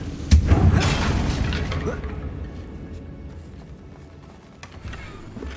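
A Confringo spell explodes in Hogwarts Legacy, a heavy close boom that rolls and fades over a few seconds, with a smaller thud near the end and a voice speaking.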